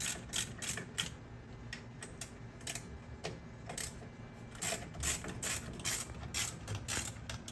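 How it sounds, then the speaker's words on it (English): A 7/16 12-point ratchet clicks steadily while loosening the set screws on a garage door torsion spring drum, producing a close, repeated rapid ticking of the pawl in short bursts with brief pauses. "So you would want to use a 7/16 12-point ratchet."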